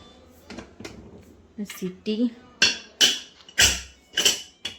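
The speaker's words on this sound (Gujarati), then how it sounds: "કુકરને રિંગ ભરાઈ દીધી. કુકર બંધ કરી દઉં." A series of sharp metallic clanks and knocks, several in quick succession, as a pressure cooker lid with its ring is fitted and locked for boiling chickpeas, with soft talking in between.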